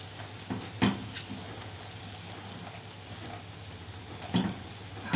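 Rice with salt, pepper and cumin sizzles in a pot for Egyptian koshari, a steady close hiss broken by a few short bursts of stirring scrapes.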